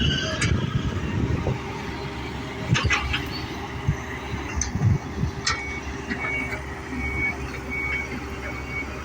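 A truck on a work site gets ready to back up, with an engine rumbling steadily over a busy outdoor background, a few short beep-like tones, and clatter from nearby machinery.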